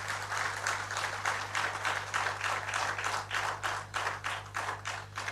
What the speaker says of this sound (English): Please, let's clap for them for a great job they have been doing.